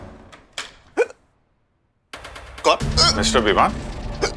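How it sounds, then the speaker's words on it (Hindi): A man hiccups sharply a couple of times, each a short voiced jolt, with a silent gap and then busier sound of voices and movement; people talk around him. "अरे आपको तो हिचकी आ रही है, पानी पीजिए ना भाई साहब।"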